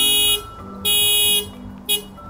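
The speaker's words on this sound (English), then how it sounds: "By pressing this button, it will activate the loud alarm." A Proton Persona 2021 car panic alarm blares in loud repeated bursts, three pulsing blasts in quick succession, close and piercing.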